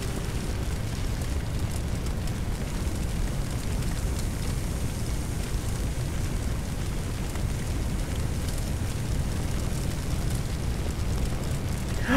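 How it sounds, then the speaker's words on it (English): Burning pump in a firefighting simulator game, a steady roaring, crackling rush of fire that holds constant throughout, with no talk. "Oh no, the pump is on fire."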